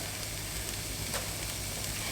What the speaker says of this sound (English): I've been frying off the carrot and the onion.